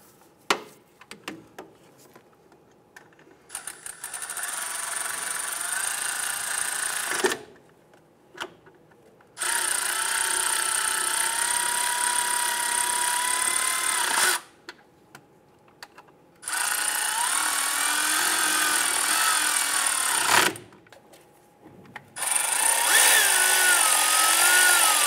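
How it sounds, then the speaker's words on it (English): A power tool runs the bolts on a 2008-2013 Nissan Rogue engine oil cooler in several long whirring bursts, each lasting a few seconds and separated by short pauses, loud and close, with no talking. "let's go ahead and snug them all down"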